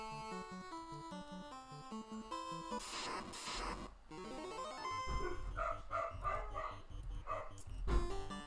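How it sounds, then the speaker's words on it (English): Dogs barking outside in spring, a burst of several sharp barks and yips mixed under melodic chiptune music from a retro NES Final Fantasy game. "it is spring, and the dogs are a lot more active than they've been in months"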